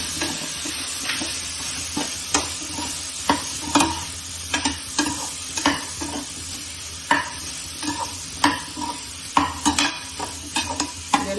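Vegetables sauté in oil with turmeric and asafoetida for South Indian sambar, a soft continuous sizzle broken by repeated sharp scrapes and clinks of a spoon stirring in the pan, close and steady, with no talking.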